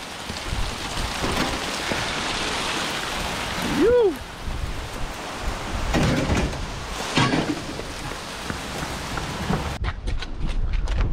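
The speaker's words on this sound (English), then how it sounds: "Okay, it's hailing." Hail pelting down during a storm beside a curb, a dense steady patter with brief swells and one sharper clatter, loud and close throughout, with a short burst of voice partway in.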